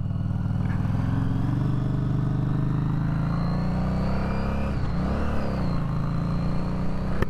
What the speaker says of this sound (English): Man, this freaking exhaust, this Vance Hines.